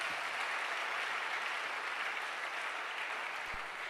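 A church congregation claps in steady, dense applause throughout, an even wash of many hands at constant loudness.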